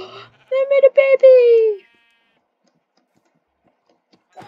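A sheep in a video game gives one drawn-out, wavering bleat, close and clear, followed by near silence.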